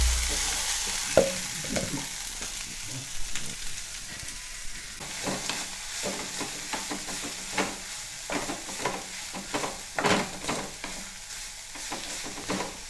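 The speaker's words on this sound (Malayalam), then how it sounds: "ഇനി ഇതിൽ നമ്മൾ നേരത്തെ എടുത്തു വച്ചിരിക്കുന്ന ചീര ചേർക്കാം." Red spinach being stir-fried in a pan, a steady sizzle with repeated scraping stir strokes at an uneven rhythm, close and fairly loud with no talking.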